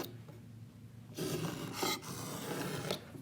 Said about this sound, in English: I'm just deepening the cut because I can apply more pressure with a sharp knife